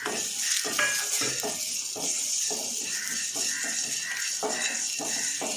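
Black pepper, cumin and curry leaves sizzle in hot oil with fried onion and dried chillies for rasam, a steady crackling hiss broken by rhythmic bursts of stirring and spatter.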